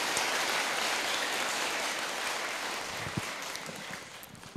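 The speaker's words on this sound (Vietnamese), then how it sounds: "Xin cho một tràng vỗ tay thật lớn nào." An audience at a New Year gathering applauds in a dense, steady wash of many hands clapping. It stays loud and continuous throughout, thinning slightly toward the end with no talk over it.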